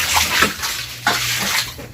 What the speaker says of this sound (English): So here the water just goes out to the trench and it flows to the garden.